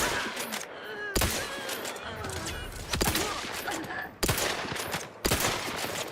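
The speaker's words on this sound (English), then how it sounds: "They're shooting that guy" Gunfire in the sci-fi game The Outer Worlds 2: several sharp, loud shots and bursts land at irregular intervals over a busy bed of background game sound.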